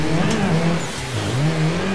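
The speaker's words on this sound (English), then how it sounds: "All right, let's do a handbrake-y." Racing sim car engine with a steady droning tone that dips and rises, tire squeal and revving through a handbrake turn, loud and continuous with no talk.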